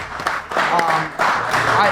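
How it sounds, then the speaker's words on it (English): An audience at the Breezy Invitational event applauds, a broad wash of clapping and cheering that swells in waves, heard beneath a voice talking over it. "Clap it up here for the Breezy Invitational."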